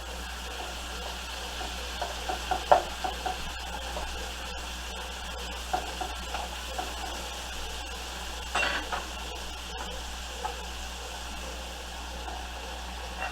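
Mushrooms sizzle softly in a hot pan while being stirred, a faint steady frying hiss broken by small scrapes and clinks of a utensil against the pan.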